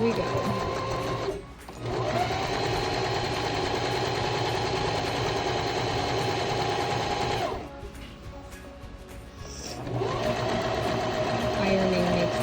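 A sewing machine stitches the hem of a cotton sundress, a loud rapid rattling hum that pauses briefly twice before resuming at full speed.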